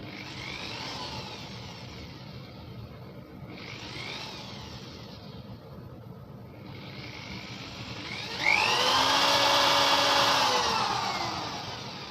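A high-pitched power drill whines in short bursts while boring a hole through the top of a model ox's head, revving up and down, then a louder, steadier run near the end that fades off.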